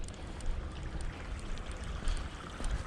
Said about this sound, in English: Got some water running, which is nice.